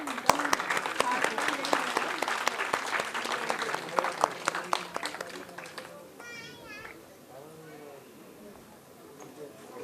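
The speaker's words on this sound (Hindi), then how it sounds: "तालियां कमजोर हैं जरा" Audience applause at an All India Mushaira Urdu poetry gathering. Dense, moderately loud clapping fills the first six seconds, then thins out as a voice speaks over the fading hand claps.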